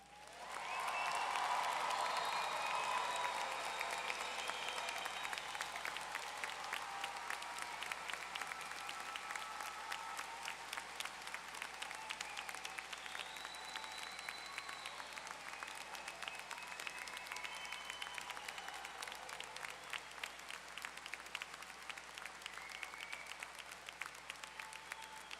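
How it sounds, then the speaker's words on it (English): Thunderous, sustained applause fills a hall at a university convocation, with a large crowd clapping loudly and continuously and a few voices and cheers rising within it. "there would be a moment for truly thunderous applause"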